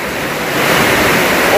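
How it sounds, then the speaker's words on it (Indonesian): Steady roaring wind with a dense hiss of rain, swelling slightly louder partway through and continuing without a break. "Oh, hujan angin."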